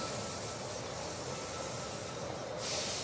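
A train pulls into a station in the strategy game They Are Billions, a steady broadband hiss and rumble of steam and rolling stock that holds constant, then brightens into a louder hissing release near the end.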